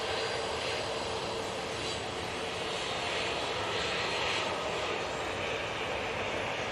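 A TUI airliner in plain white livery, bound for Malaga, powers along at Manchester Airport with a steady, loud, continuous jet engine roar that holds throughout.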